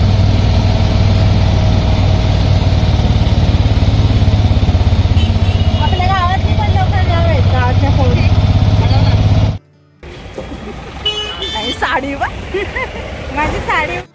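An auto rickshaw engine drones steadily and low throughout a ride from Karjat toward Kadav, with faint voices over it, until the sound cuts off abruptly after about nine seconds.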